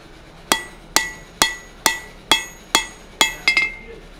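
Eight sharp, ringing hammer blows on hot steel bar stock being forged down at an anvil while making a hammer eye drift, evenly spaced about half a second apart, close and crisp with metallic ring, the last two struck quickly together.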